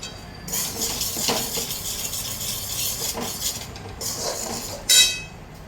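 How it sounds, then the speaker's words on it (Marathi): Split mustard seeds dry-roast in a pan as a utensil scrapes and stirs. Light metallic clinks repeat throughout, and a louder clank of metal comes just before the end. "अशी आपण मोहरीची डाळ भाजून घेतली"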